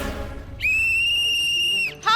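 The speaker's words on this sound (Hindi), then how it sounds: "अरे हाफ टाइम हो गया, सीटी बजाओ।" A single referee's whistle blown for half time, one long steady loud blast lasting over a second, followed by a brief second chirp, with faint background murmur before it.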